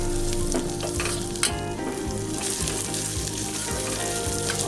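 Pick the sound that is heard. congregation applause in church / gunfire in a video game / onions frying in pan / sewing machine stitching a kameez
onions frying in pan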